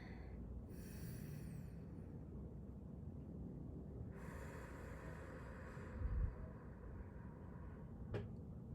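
Slow, audible breaths drawn in and let out during a guided breathing moment, close and soft with a faint airy hiss and no talking over them.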